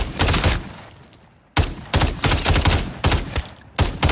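Rapid bursts of automatic gunfire from the video game Warzone, loud, close volleys separated by brief pauses, with no talking.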